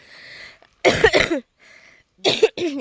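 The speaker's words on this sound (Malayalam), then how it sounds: "എനിക്കും കുഞ്ഞിനും ഏട്ടനും ചുമയാണ്" Two harsh, close coughs in quick bursts, separated by a faint breathy pause.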